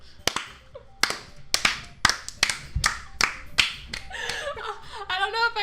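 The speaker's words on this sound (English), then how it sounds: "Is it a slow clap?" A slow, deliberate hand clap from livestreamers during a game session, about nine sharp, close claps evenly spaced roughly half a second apart, ending in a looser burst of quicker clapping.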